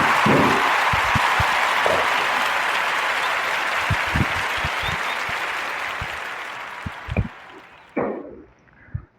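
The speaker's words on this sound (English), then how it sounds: "Give a warm narrative podcast round of applause for Mawa McQueen and the Crepe Shack" A podcast audience gives a warm round of applause for chef Mawa McQueen and the Crepe Shack. It is dense and sustained, thins out near the end, and finishes with a few scattered claps.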